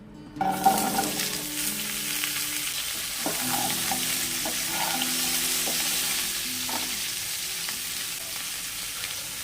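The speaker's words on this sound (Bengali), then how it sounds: "এই তেলে দিয়ে দেব কেটে রাখা পটলগুলো" Steady oil sizzling as chopped pointed gourd fries in a pan, with occasional stirring scrapes, fairly close and continuous throughout.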